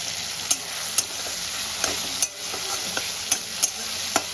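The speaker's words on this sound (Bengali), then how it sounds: "টমেটোটা আমি সুন্দর করে ভেজে নেব।" Finely chopped tomatoes fry in a pan with a constant sizzle, while a spatula scrapes and taps the pan in a regular rhythm of sharp strokes, close and clear with no talk.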